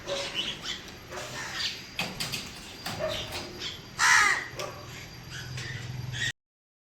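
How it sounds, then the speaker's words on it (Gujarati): Crows and mynas caw and call repeatedly with mixed bird chatter, including one loud, close squawk, against a noisy outdoor background. "કાબરો અને કાકડા આવી ગયા છે."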